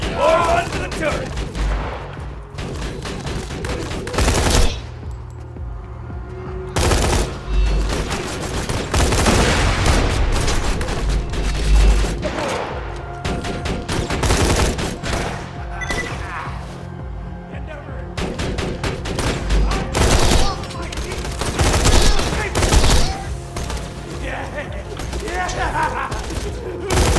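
Axton's deployed turret firing in the video game Borderlands 2, dense continuous rattling gunfire with booms and thuds mixed into loud game combat, running throughout with no break.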